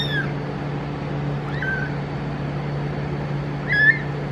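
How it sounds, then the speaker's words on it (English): A frightened kitten lets out a few short, strained meows with pauses between them, the last one louder, all set against a steady low background hum. "that's an interesting meow, cry."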